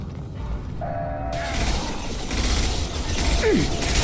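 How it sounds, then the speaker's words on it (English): A metal shutter closing in Mass Effect 2, a mechanical grinding and ratcheting clank that swells after a second and continues with a creaking slide near the end, no talk. "Get to the console and close that shutter before they can get through"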